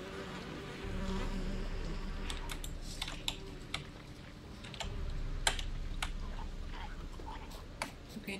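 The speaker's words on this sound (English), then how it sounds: "Ooh, bees." Bees drone in The Witcher 3 as a steady, low, close buzz that lasts the whole stretch. Faint clicks and ticks scatter across it, and there is no talking.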